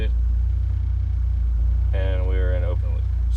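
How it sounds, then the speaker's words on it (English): A Honda car engine idles steadily while warming up, a loud, even low rumble throughout, with someone talking over it partway. "So car's got to warm up."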